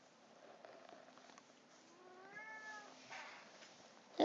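An indoor pet cat lets out a single faint, drawn-out meow partway through, set against a quiet room with low background hum and a brief louder knock at the very end.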